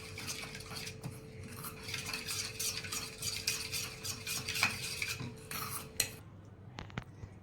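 A spoon stirs and scrapes in a metal bowl while ingredients for lachha paratha are mixed, quick repeated clinks and scrapes at close range, then a few sharp taps at the end.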